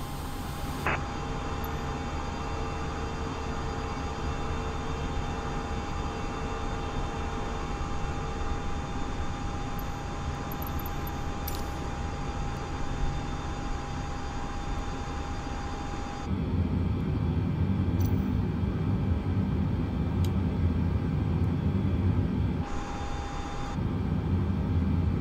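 Airbus A320 on the ground during pushback in Microsoft Flight Simulator, a steady engine hum with a high whine that thickens into a louder, rougher roar partway through, with no talk.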